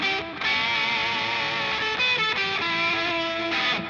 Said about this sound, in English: Then I can add in an EQ and an analog delay with one button push.